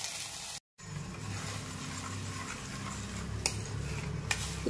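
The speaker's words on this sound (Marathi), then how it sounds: "इथं आपल्याला दूध चांगलं हे तुपामध्ये मिक्स करून घ्यायचं आहे।" A spoon works milk into ghee in a kadhai, a low steady simmering hiss with soft scraping and a couple of sharp metal clinks near the end, heard up close after a brief gap of silence.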